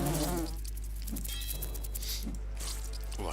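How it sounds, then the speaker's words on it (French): Insect-like buzzing of wasps in the fantasy role-playing game Lords of Xulima, a steady drone with faint tonal whines and small clicks over a low game hum, no talking. "si les guêpes veulent bien nous laisser passer"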